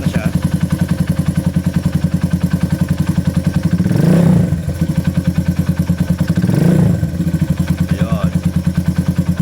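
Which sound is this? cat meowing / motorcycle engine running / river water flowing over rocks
motorcycle engine running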